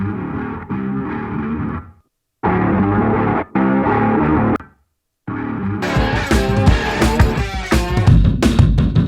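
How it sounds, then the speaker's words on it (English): Full band mix with guitar given a room emulation effect so it sounds placed in a space rather than dry, playing loud with a couple of abrupt dropouts before a denser, brighter section. "I'll put a little room emulation on sometimes, so it sounds like it's more, it's not just like DI."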